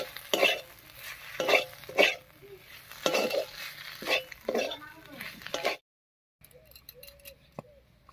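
Radish greens cooked with mung dal are stirred in a wok, giving a series of separate scraping strokes at an uneven pace. A brief silence follows, then faint clinks.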